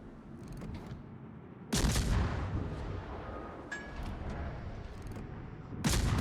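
Naval artillery salvos in the World of Warships game boom out twice, one heavy blast about two seconds in and another near the end, over a steady rumble of ocean and engine noise with no talking.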